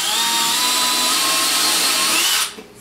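A power drill whirs steadily as it drives screws into a wooden beehive body, a loud continuous motor whine that stops abruptly near the end.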